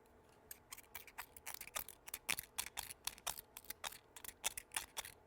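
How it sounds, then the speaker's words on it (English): An X-Acto knife scratches at the contact of a Norton ignition coil, producing quick, crisp little scrapes and clicks in an uneven, rapid rhythm, close and faint. "let me get in here and scratch away at this with a X-Acto knife"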